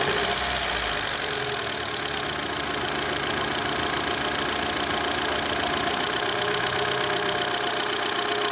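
A car engine at steady idle after being revved to operating temperature, with the radiator cooling fan running; a continuous broadband whir and hum holds level and fairly loud throughout, with no talk.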